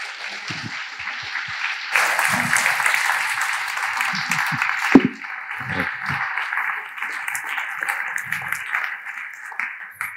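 Audience applause welcoming a speaker onto a stage, swelling suddenly into a strong, dense round of clapping, then thinning to scattered claps with some voices and stage noises underneath.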